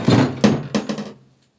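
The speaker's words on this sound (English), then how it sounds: "I'm going to start off with the hammer." Hammer striking car body metal held over a dolly: four close, sharp metallic blows in quick succession, ringing briefly before fading to silence.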